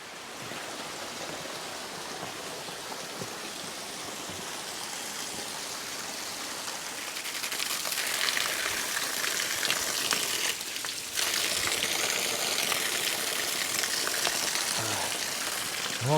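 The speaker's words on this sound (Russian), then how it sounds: "Одна струя течет прямо в купель." A spring-fed stream of water pours steadily into a bathing font at a holy site, a continuous close splashing rush that swells louder about halfway through.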